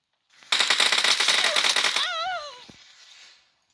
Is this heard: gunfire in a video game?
yes